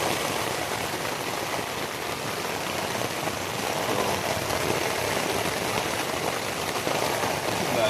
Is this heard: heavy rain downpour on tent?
yes